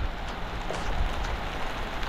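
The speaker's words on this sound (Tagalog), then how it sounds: "Malakas ang ulan." Heavy rain pours down steadily at a farm work site, a dense continuous hiss of drops on surfaces with no pauses and no voices over it.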